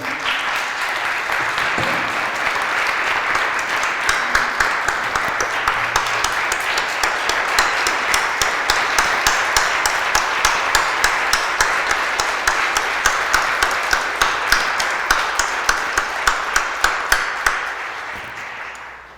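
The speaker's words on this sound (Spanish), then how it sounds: "les demos un aplauso" Sustained crowd applause at a posthumous tribute ceremony for Marco Antonio Hernández Morales, dense and loud for nearly twenty seconds, settling into a steadier rhythmic clapping in the second half before fading out.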